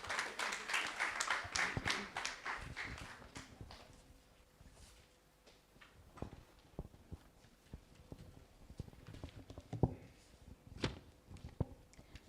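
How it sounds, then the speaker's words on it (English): A crowd claps briefly and loudly, the applause fading after a few seconds into scattered claps, shuffling and faint room noise. "Let's clap for her."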